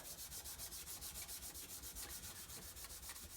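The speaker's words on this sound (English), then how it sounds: "I'm just going to give a light cross sanding here, or not sanding, but buff" Steady, rapid back-and-forth rubbing, a soft rhythmic swish of light buffing along the frets of a rosewood fretboard on a vintage Seagull guitar, close and quiet with no voices.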